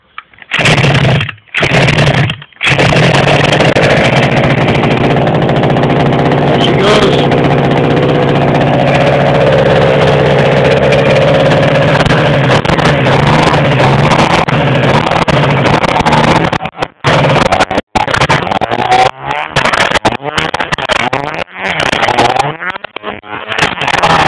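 A Shengqi hummer engine runs steadily with the choke off, loud and close, a continuous mid-pitched drone, briefly cut near the start and breaking up into choppy bursts toward the end.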